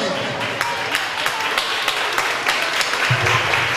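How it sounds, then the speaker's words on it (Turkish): Audience at a Turkish community gathering in Schrems, Austria, claps steadily throughout, a dense wash of applause with some voices mixed in beneath. "Onları ben alkışlıyorum."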